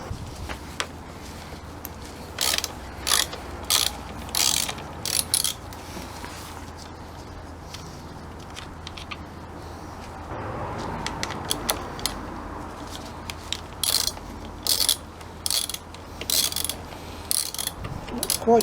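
A ratchet undoes side screws on a Honda CB1300 frame in repeated quick bursts of clicking, some near and sharp, with short pauses between and faint metallic clinks.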